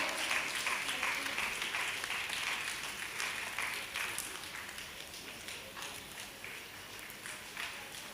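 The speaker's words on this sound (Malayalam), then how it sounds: "നല്ലൊരു കയ്യടി കൊടുക്കാം." Audience applause at a ceremony honouring a community service worker, a steady, dense clapping that stays loud and sustained throughout, fading slightly toward the end.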